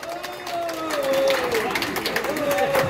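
Applause and cheering from a crowd of spectators at a buffalo beauty contest in Chonburi, Thailand, steady clapping for nearly three seconds beneath a voice over a loudspeaker.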